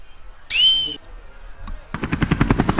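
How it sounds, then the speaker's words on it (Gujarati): A helicopter in a comedy sketch, its rotor thumping in quick, even pulses that start abruptly and loudly near the end, preceded by a brief high whistling tone. "હેલિકોપ્ટર લગભગ આવતો હોય એવું લાગે છે અવાજ આવે છે"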